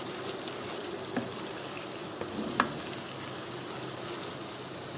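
Ghee and flour cooking together in a pan, a soft steady frying crackle with a few light clinks of a spoon, fairly quiet and without talk.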